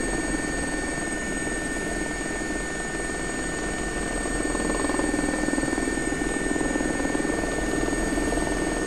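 A simulated SA342 Gazelle helicopter's turbine engine and rotor drone steadily and fairly loudly throughout in a flight simulator over a logging camp in British Columbia, Canada.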